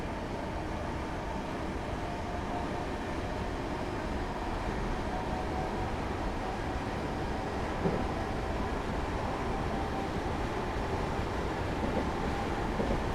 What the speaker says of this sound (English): As we reach 50 miles per hour, I'm going to idle the power to allow the train to coast